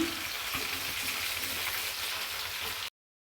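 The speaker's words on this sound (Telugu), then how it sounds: "అదే ప్యాన్లోకి 15 వరకు వెల్లుల్లి రెబ్బలు వేసుకొని వేయించుకోవాలి" Around fifteen garlic cloves frying in a pan for a gongura flower chutney, giving a steady broadband sizzle that holds close and even, then cuts off abruptly near the end.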